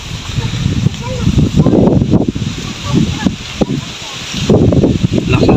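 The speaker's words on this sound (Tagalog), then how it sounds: "malakas ang hangin eh" Strong typhoon wind gusts buffet the microphone in rumbling bursts, rising and easing irregularly, with rustling in the background, in Leyte.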